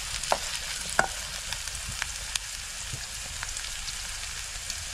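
Fresh cashew nuts sautéing in a pan in a village kitchen, a continuous crackling sizzle with intermittent light scrapes and clicks of stirring, close and moderately loud, no voices.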